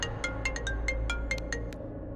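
A phone rings with a brother's incoming call in a Hindi TV serial scene: a quick, bright, repeating electronic ringtone pattern of short tones over a low steady hum, with no talking.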